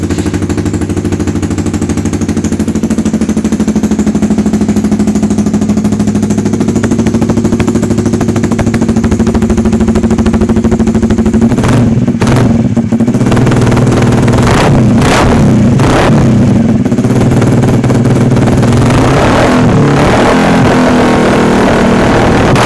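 A motorcycle fitted with an AR Austin Racing full aftermarket exhaust idles with a loud, rapid, pulsing rumble, then is blipped and revved several times in short bursts before settling back to idle.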